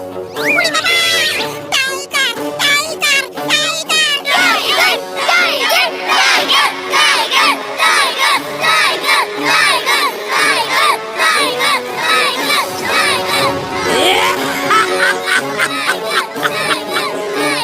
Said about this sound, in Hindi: सब चिल्लाओ, टाइगर टाइगर टाइगर टाइगर